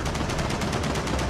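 An entrenched turret in the video game Gears of War 4 fires a rapid, unbroken burst of gunfire: loud, close, evenly spaced shots that run the whole way through without any talk.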